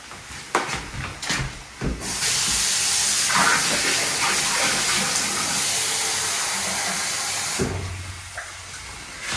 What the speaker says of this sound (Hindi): गरम पानी टैप